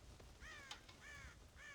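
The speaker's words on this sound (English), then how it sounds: "God damn crows!" Several crows caw in a run of harsh, rasping calls in Red Dead Redemption around a farm silo, faint and somewhat distant over a low ambient rumble.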